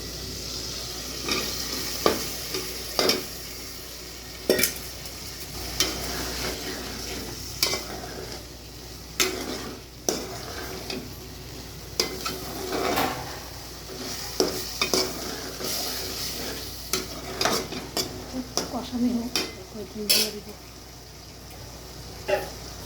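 Vegetable stalks and dried fish stir-fried in a pan, a continuous sizzle broken by frequent sharp spatula scrapes and knocks, close by, with a voice talking at times over the cooking.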